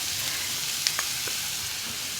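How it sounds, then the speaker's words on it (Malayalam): Grated beetroot sautés with salt in a hot pan for a thoran, a steady close sizzle with a couple of sharp spatula taps against the pan. "ഇനി നമുക്കിതിനെ ഉപ്പിട്ട് വഴറ്റണം."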